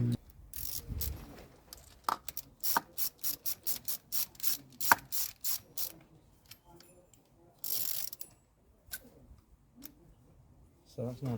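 A socket ratchet clicks in repeated bursts of rapid ticks while a nut on a threaded bolt, packed out with washers, is drawn tight to pull a broken stud from a Honda CBR600F3 motorcycle, close and loud with pauses between strokes.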